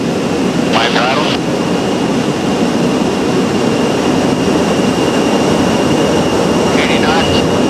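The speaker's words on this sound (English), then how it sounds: "This Boeing 707 aircraft is about the same size and weight as the shuttle, and Brent Jett" Boeing 707 jet airliner on a training flight, a steady loud roar of engine and airflow noise inside the aircraft, continuous throughout with faint high tones above.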